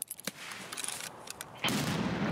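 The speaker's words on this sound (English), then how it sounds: "he's getting shot at now by somebody else" Gunfire in the video game Escape from Tarkov: a few scattered shots early, then a denser burst of firing near the end, heard at a distance without talk.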